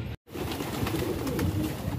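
Pigeons kept by a pigeon fancier in Delhi coo close by, a soft low rolling murmur after a momentary silent gap at the start.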